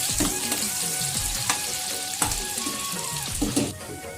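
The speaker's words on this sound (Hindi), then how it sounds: "थोड़ा से भूनना है अच्छा से" Bohar bhaji leaves fry in a pan with a continuous close sizzle, broken by occasional scrapes and soft knocks as the leaves are turned and stirred.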